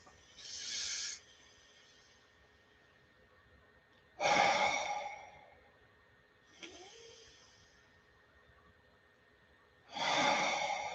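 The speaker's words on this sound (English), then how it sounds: "Take a nice deep breath." Slow, deep breaths in a quiet room during a guided meditation, several long audible exhales spaced a few seconds apart, close and soft with a faint steady hum underneath.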